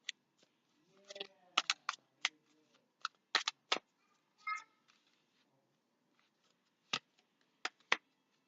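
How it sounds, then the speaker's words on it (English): Tarot cards are pulled from a deck with a scattered series of sharp, close snaps and flicks. Short papery rustles fall between the snaps, with quiet pauses in between. "I'm going to pull out a couple more cards from here for you."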